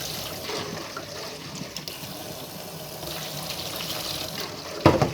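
Mung bean skins being rinsed away in a sink under running tap water, a steady close wash of pouring and splashing with a brief louder splash near the end.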